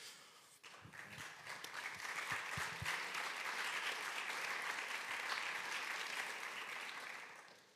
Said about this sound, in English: That's actually an applause for you, right?